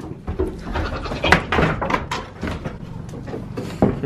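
Goats bleat repeatedly at close range, several overlapping calls with wavering tones, alongside shuffling and knocking noises from a barn under construction.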